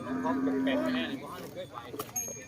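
Cattle low and moo at a livestock market in rural northeast Thailand, a long drawn-out call at close range with someone talking over the busy market chatter.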